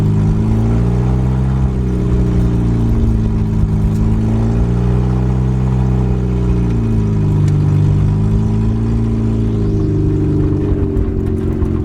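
A 1991 Honda Civic Wagon RT4WD on a test drive hums with a loud, steady engine drone, its pitch rising and falling smoothly as the car speeds up and eases off, heard from inside the car.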